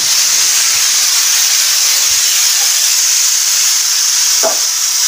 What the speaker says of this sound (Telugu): కుక్కర్ వచ్చింది 5 విజిల్లు చేస్తాం